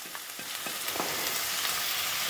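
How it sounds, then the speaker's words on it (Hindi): Capsicum, cabbage and carrot fry in oil with crushed garlic and ginger for vegetable macaroni, a steady close hiss of sizzling with faint scraping stirs underneath, no voices. "इनको करते हैं फ्राई फ्राई।"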